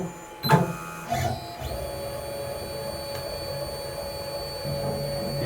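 An Onefinity Woodworker CNC machine homes itself, a few short mechanical clunks giving way to a steady whining motor drone as the gantry travels to find its limits, fairly quiet and close with no speech.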